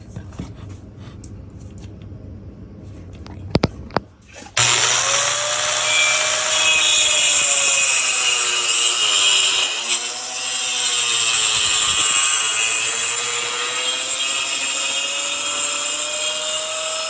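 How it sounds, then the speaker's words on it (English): A power saw plunges into wood: a couple of clicks and a brief rev, then the motor spins up to a loud steady whine with the blade biting as the cut moves forward, dipping briefly before continuing. "you're going to plunge cut it and then go forward"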